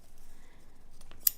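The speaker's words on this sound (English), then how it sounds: "this is wired, but it's a really soft wire, so I'm going to cheat and use these scissors" A pair of scissors cutting soft wired ribbon, a brief quiet rustle followed by a couple of sharp snips near the end, heard alone at close range.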